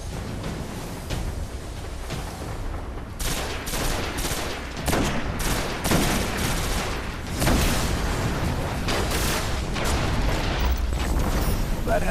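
Dense bursts of gunfire from the video game Destiny come in rapid, repeated volleys that grow busier over time, with someone talking over the shooting.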